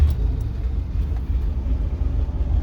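An old RV's 360 engine idles steadily with a low, continuous rumble, close and fairly loud, running alone without any talk for the whole stretch.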